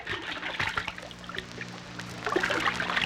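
Water trickles and dribbles within a played music track, small splashy bursts rising and falling over a low sustained tonal bed, loudest near the end.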